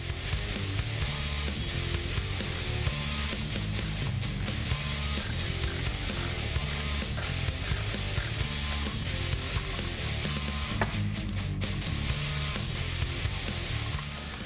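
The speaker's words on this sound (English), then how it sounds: "We're going to start by tightening them again in a star pattern to 25 foot-pounds." A ratchet tightens the pressure plate bolts of a McLeod RXT twin-disc clutch on a 2011-2017 Mustang GT in a star pattern. It sounds as continuous close mechanical clicking and whirring at steady loudness, without voices.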